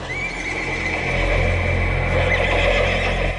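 A horse in pain from a severe wound whinnies in a long, strained cry over dense, loud background noise.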